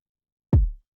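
A single kick drum hit in a mixing session with the attack left unboosted, one deep, rounded thump that swells and fades over a short tail, alone in silence.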